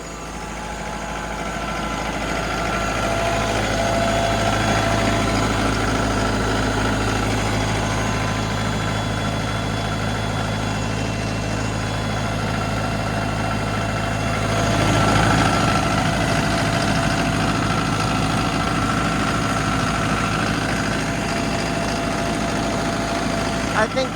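A tractor engine idles close by with a steady, continuous low rumble and drone that holds unchanged throughout, during a firewood-gathering outing.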